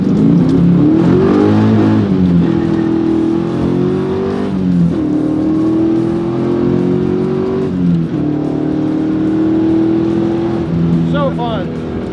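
Nitrous-equipped 650 hp Pontiac Trans Am WS6 engine revving hard and loud, with rising and falling pitch through repeated pulls over about twelve seconds, up close and steady throughout.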